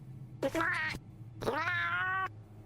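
A cat meows twice in an audio drama, two drawn-out, rising, whining calls close up, the second longer than the first, separated by a short pause, with no talk over them.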